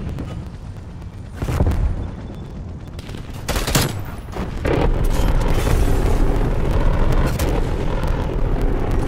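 Gunship or VTOL attack in a shooter game: heavy booming blasts and rolling gunfire, a few loud impacts followed by a sustained dense rumble of fire, close and loud.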